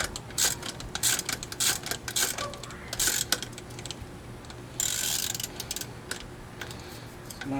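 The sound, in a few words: ratcheting down a strut bolt on a Chevy Aveo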